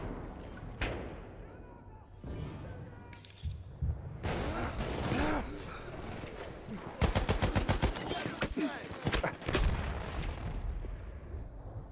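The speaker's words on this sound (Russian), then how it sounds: "Вижу пулемет!" Machine gun fire in the World War I shooter Battlefield 1 on the Tsaritsyn map, with scattered shots and a long rapid burst of evenly spaced, loud rounds in the middle, amid battle noise and shouted voices.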